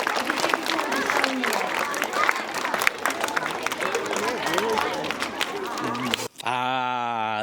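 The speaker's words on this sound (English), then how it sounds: "give yourself all a big clap too, because you were fantastic today" School children applaud at an in-school assembly, a dense crowd of clapping mixed with chatter and cheering that runs for several seconds before cutting off abruptly, followed by a brief musical sting.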